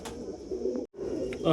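Tehle wali breed pigeons coo softly nearby in short throaty calls, with a brief gap of silence in the middle and a voice starting at the very end.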